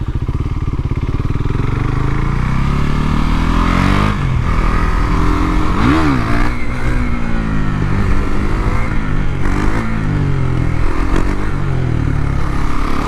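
A KTM Duke 390 fitted with a 56-tooth rear sprocket accelerates uphill and shifts up into third, its single-cylinder engine revving loud and close with rising and falling pitch through the gear change and steady wind noise.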